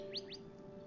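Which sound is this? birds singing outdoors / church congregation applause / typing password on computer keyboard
birds singing outdoors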